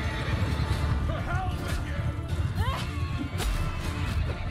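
Horses neighing amid a chaotic battle in the video game Mount & Blade II: Bannerlord, several rising whinnies over a busy din of hooves, clashing and crashes, with people talking throughout.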